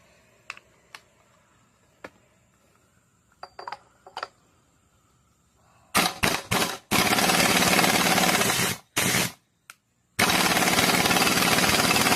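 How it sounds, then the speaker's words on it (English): Impact tool removing the yoke nut from a Muncie SM465 manual four-speed transmission, with a few light clicks and taps followed by loud, close, rattling hammering bursts that stop and start several times. "next up we need to get the nut off this yoke right here"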